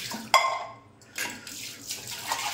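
Tap water splashing into a home kitchen sink while cooking, in short uneven bursts with brief pauses between them, close and moderately loud with light clinks of dishes.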